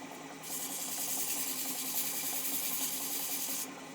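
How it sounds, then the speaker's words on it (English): Sandpaper rubs lightly over a cherry wood candle stand, a steady close rasping that starts after a brief pause and continues evenly before stopping near the end. "I am not pressing real hard with this sandpaper."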